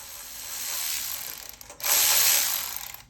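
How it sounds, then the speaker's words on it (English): A ratchet spins off 7/16 nuts from a Scag SFC 30-inch mower handle, two quick bursts of rapid close clicking separated by a brief pause. "on the left-hand side, go ahead and remove these 7/16 nuts"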